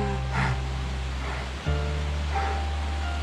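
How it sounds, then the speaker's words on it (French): Steady broadband water rush from a mountain waterfall on the Tour du Mont Blanc trail near the Col du Bonhomme, close and continuous, with strong low rumble and a brief dip midway. "Et première cascade de notre ami Jackie"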